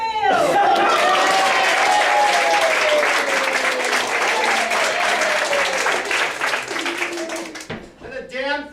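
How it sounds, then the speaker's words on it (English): An improv theater audience bursts into loud, sustained applause and cheering, a dense clapping wash that slowly thins out, with a voice talking over it near the end. "we'll applaud you for it"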